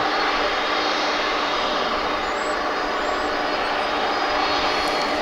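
A UPS cargo jet roars loudly and continuously on the runway at DFW airport, its engine noise a broad, steady rush that never lets up.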